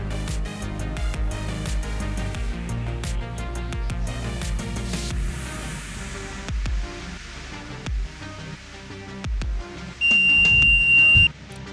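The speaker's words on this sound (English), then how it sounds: "As it comes on, there's a loud beeping alarm sound which will prompt you to set your gas threshold in the app." A portable air quality monitor with an MQ2 gas sensor sounds a loud beeping alarm as it powers on. The tone is steady and close, repeating against a busy background, and no one speaks.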